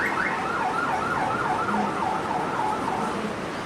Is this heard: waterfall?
no